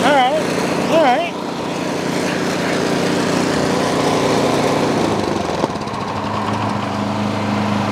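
A Craftsman Quiet Technology snow blower runs on a driveway with a steady droning engine hum, close and loud throughout, with a brief rising whine near the start.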